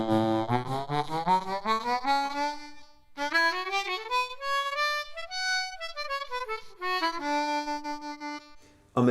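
A retuned Hohner Thunderbird harmonica with an Australian blackwood comb plays solo, close and clear, with rising runs, a long bending phrase and held notes in a rich, reedy tone.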